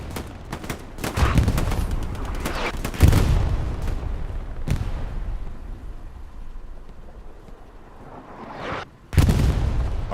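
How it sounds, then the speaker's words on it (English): Artillery fire and gunfire during a competitive Hell Let Loose match on Omaha Beach, with loud booming impacts and rattling shots in bursts, sharp blasts near the start and again near the end, and no talk. "Artillery going off"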